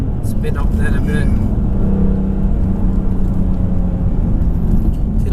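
The engine of a 2017 BMW F80 M3 Competition rumbles and pulls hard under acceleration, loud and continuous from inside the car, while people talk over it.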